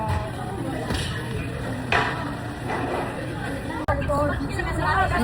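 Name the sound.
noisy crowd chatter in a store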